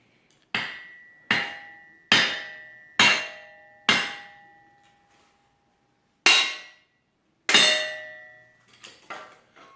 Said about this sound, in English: Don't use the hammer.